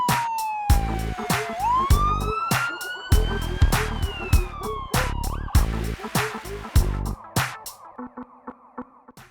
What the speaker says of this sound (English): and a loud siren,